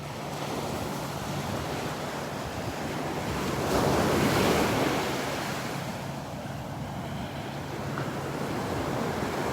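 Ocean waves breaking steadily on the beach at Delnor-Wiggins, a continuous broad surf wash that swells louder for a few seconds mid-way, with light wind buffeting the microphone and no voices.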